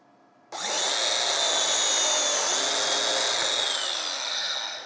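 A power biscuit joiner starts abruptly and cuts a slot into wood, its loud, steady whine continuing close and unbroken to the end, with no talk over it.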